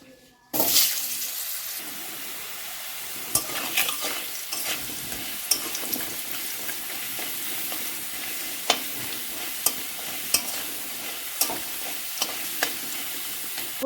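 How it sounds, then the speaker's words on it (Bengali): Potatoes frying in oil in a pan, a loud steady sizzle that starts abruptly and runs throughout, punctuated by regular sharp taps and scrapes of a utensil, with no talk. "এই তেলে এখন আমি আলুগুলো ভাজবো।"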